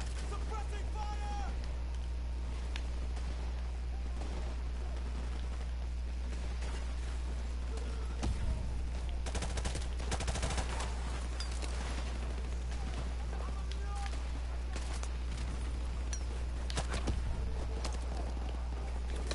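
Suppressing gunfire in a military shooter video game: scattered bursts and shots under a steady low rumble. Sharper volleys cluster around the middle and later, with radio-style voices talking over them.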